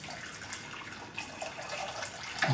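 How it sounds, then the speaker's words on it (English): Hot tap water runs into a pot in a home kitchen while making honeycomb candy, a steady splashing stream close up with a small clink near the end. "immediately I must fill the pot with hot water"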